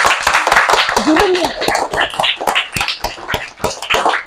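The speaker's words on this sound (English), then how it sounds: "Everybody, give a clap." A class of students claps their hands in an English lesson, scattered sharp claps ringing out in an uneven rhythm while voices and a brief high whine carry on underneath.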